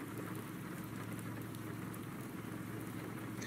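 Steady, dense video-game rain hiss with scattered raindrop patter, an even wash of sound filling the whole moment at moderate level with no voices.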